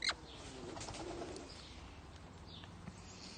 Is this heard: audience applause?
no